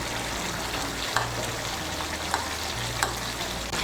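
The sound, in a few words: ghee, sugar and green chillies frying and stirred in pan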